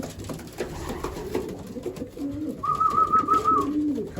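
Young racing pigeons returning from a flight, a nearby pigeon giving one rolling coo near the end above softer low murmuring calls and rustle, with no speech.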